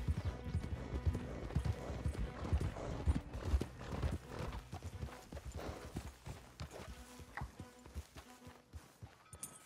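Horse hooves clip-clop at a walking pace in Red Dead Redemption 2, with several horses moving over the ground close by. The hoofbeats are uneven and overlapping, and a faint whinny can be heard.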